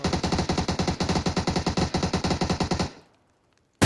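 Rapid automatic gunfire in the battle royale game PUBG, a loud rhythmic burst of evenly spaced shots lasting nearly three seconds before cutting to near silence, with a brief sharp sound at the very end.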